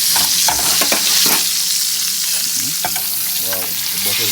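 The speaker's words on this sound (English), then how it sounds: "as you can hear, the chicken is sizzling at the back" Chicken breast sizzles and fries in a hot pan with butter, a steady close crackling hiss with occasional stirring scrapes and no talk.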